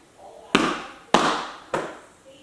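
Feet landing from hops in a home step-up workout: three sharp, thudding impacts about half a second apart, each decaying quickly, close and fairly loud with no talk over them.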